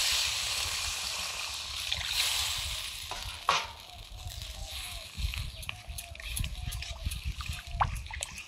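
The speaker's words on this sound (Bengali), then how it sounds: "এবারে দিয়ে দিচ্ছি জল।" Water poured into a cooking pot over a village-style fire in a Bengali kitchen, for a shrimp and Malabar spinach seed dish, making a steady close hiss and splashing wash with no talk over it.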